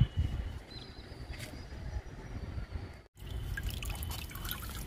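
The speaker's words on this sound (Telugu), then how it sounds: "డబ్బాలో పోస్తున్నా లిక్విడ్." Mixed kitchen-waste liquid fertilizer pours and trickles into a container, with a steady splashing flow that breaks off briefly and then resumes.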